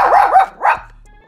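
A dog barks near and loud, a quick double bark followed by a third, rising yelp, with no talk over it.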